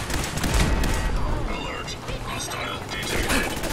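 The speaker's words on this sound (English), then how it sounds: "What's the shooting?" Gunfire in the video game Fallout 4, a dense burst of shots and booms at loud, steady level throughout, mixed with other game effects and a voice.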